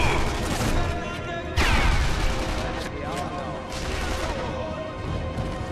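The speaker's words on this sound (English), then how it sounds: "Maybe that was actually a grenade." Gunfire crackles in bursts during a co-op match of the shooter Sniper Elite V2, then a sudden heavy blast like a grenade explosion cuts in midway, followed by more shots and debris under a loud, chaotic battle mix.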